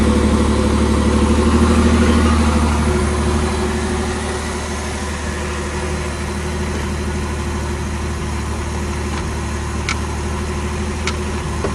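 A Pontiac Fiero V6 engine runs at a steady idle, a smooth, even hum that eases slightly after the first few seconds, with a couple of faint clicks near the end.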